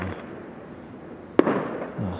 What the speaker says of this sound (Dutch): Ja, gratis vuurwerk, altijd mooi.